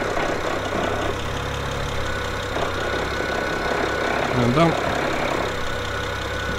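Twin-turbo BMW 335i six-cylinder fitted with a single mass flywheel and 550i clutch idles with a steady, even mid-low drone, close by; a person briefly speaks over it.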